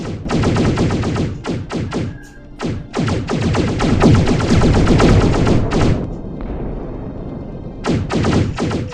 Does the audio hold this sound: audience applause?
no